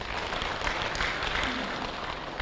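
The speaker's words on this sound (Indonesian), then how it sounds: "Saya nggak perlu Anda tepuk tangan" Audience applause fills a conference hall during a working meeting of private university leaders, a steady, moderately loud wash of clapping that holds without a break.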